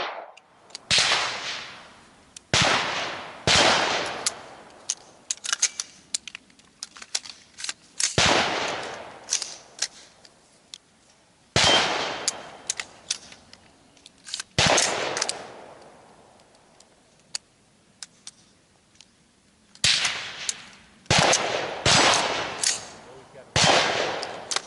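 Rifle or carbine live-fire shots at close range on an outdoor range, loud sharp cracks in irregular bursts and pairs with quiet gaps between, some faint voice in the pauses.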